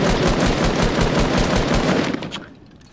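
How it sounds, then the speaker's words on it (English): Rapid automatic gunfire in the video game Fortnite: a loud, close stream of evenly spaced shots lasts about two seconds, then cuts off and fades to quiet. "Are you shooting someone?"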